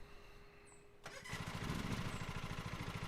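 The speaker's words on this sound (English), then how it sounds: "so we got to start the engine" A lawn mower engine in the Lawn Mowing Simulator video game cranks over and catches about a second in, then settles into a loud, steady, rapidly pulsing run with no talking.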